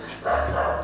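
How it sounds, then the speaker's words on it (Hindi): A dog barks in a short burst of repeated woofs, fairly close and loud, heard alone with no talk over it. "डॉगी भौंक रहा है, वाह वाह वाह वाह करके।"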